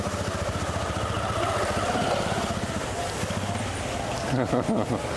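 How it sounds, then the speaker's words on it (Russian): A motorcycle engine passes behind pedestrians on a busy street in Dar es Salaam, Tanzania, a steady rumbling drone amid dense street noise with people talking over it. "Сзади мотоцикл, ребят."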